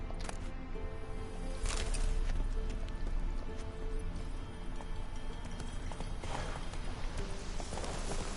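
Roach the horse's hooves clip-clop steadily in The Witcher 3 video game, a continuous trotting rhythm set against dense ambient game sound.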